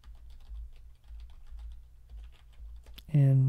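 Keys tapped on a computer keyboard while a password is entered during FreeBSD 13 system setup, a soft run of irregular close clicks over a low steady hum, ending in a louder burst of tonal sound.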